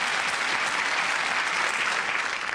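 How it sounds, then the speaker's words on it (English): Studio audience applause on a Bruce Forsyth game show, dense and even clapping from many hands at steady volume throughout this short burst, with no voices over it. "I think it deserves a round of applause."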